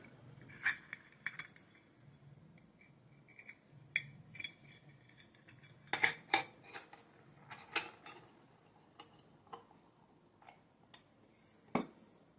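Small antique metal boxes clink and tap as they are handled, sharp scattered knocks over a quiet room with no one speaking.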